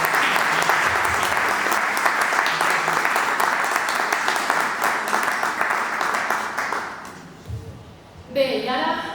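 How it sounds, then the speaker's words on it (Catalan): An audience at a literary event applauds a veteran writer, with dense, sustained clapping that fades out near the end, followed by brief speech. "Així que, si voleu, li fem un aplaudiment."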